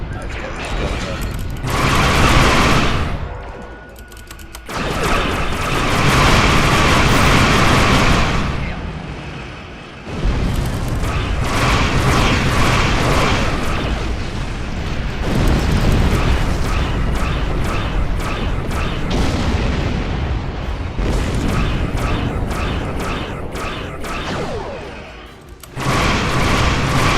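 Starship guns firing and explosions in the video game Star Trek Online during a fight with Nausicaan pirates: loud, dense bursts of weapon fire and booming blasts, with brief lulls between heavy barrages.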